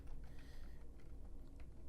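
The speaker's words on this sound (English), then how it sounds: "What are you typing in there?" Soft, close computer keyboard typing, a quick run of light key clicks that goes on steadily throughout, faint and with no talking.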